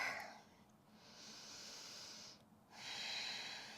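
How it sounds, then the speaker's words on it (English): Ujjayi yoga breathing drawn in and out through the nose, a close, soft hissing inhale then a pause and a longer rushing exhale, alone in a quiet room. "Can you find that Ujjayi breath? In and out through the nose."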